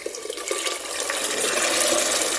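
Tap water running into a sink as soaked beans are rinsed, a continuous close splashing stream that grows slightly louder, with no talking.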